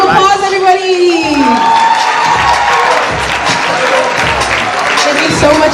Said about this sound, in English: We just give a big round of applause, everybody!